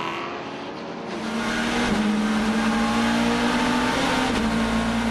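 A front-wheel drive Nissan racing car engine drones loud and steady, rising slightly in pitch as it builds revs, heard close with no voices.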